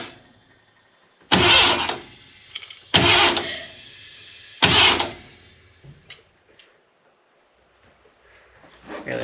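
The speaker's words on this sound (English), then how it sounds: "Alright, so I just gotta crank this until it gets down." Ford 302 V8 engine cranked over by the starter in three separate bursts, each a loud whirring grind lasting about a second, with quiet pauses and small clicks between them.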